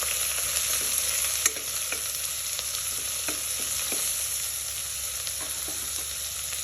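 Tomatoes and green onion are stirred in a hot pan for a veg frankie filling. A steady, bright sizzle runs throughout, with scattered scrapes and clicks of the spoon against the pan and no voices.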